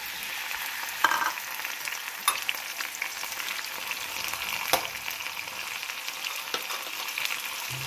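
Tomatoes frying with onion, ginger and garlic for pinakbet, a continuous close sizzle and hiss with occasional sharp clinks and scrapes of stirring, no voices.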